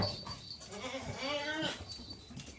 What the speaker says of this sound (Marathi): शेळ्यांना लई भूक लागली. बघा ते मोठ्या मोठ्याने ओरडतात.